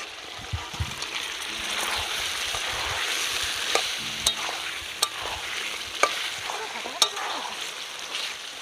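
Chicken curry sizzles in a pan as fried potatoes and a whole garlic bulb are stirred in, a continuous close frying hiss with sloshing stirring and occasional sharp utensil taps against the pan.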